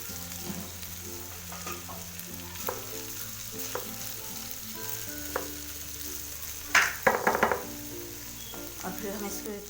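Cooked rice and frying vegetables in a pan for a chicken and vegetable fried rice, sizzling steadily and close, with a brief burst of scraping and clattering as the rice goes in, over a continuous low background hum.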